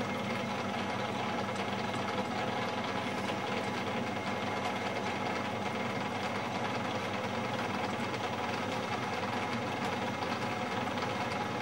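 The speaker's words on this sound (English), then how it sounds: "This is now free, so I can reverse the lathe" A metal lathe runs in reverse, giving a steady, close mechanical hum with a rapid rhythmic knocking and vibration throughout, and no talking.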